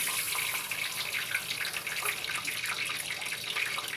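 Water pours steadily into pancake mix in a home kitchen, a continuous splashing, hissing stream close to the microphone with no one talking.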